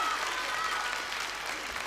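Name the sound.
audience applause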